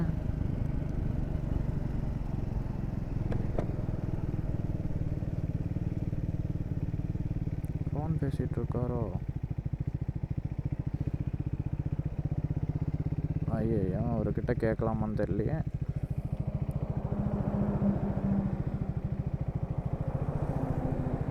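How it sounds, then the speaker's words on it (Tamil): Steady motorcycle and scooter engines drone past on a busy road, with a horn honking twice and people talking over the traffic. "பைக்கு போகுதுப்பா, ஸ்கூட்டர்லாம் போகுது."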